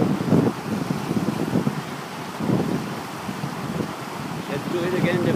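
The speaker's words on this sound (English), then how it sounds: "This is the low tide wind." Low-tide wind at the Najum islands in the UAE rushes steadily across the microphone in a continuous gusty roar, with a voice faintly speaking beneath it.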